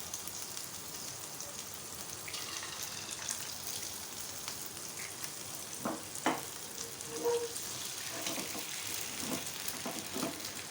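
An egg frying in butter in a pan over a low flame for a half-fried breakfast egg, giving a steady soft sizzle throughout with a few brief crackles and pops standing out.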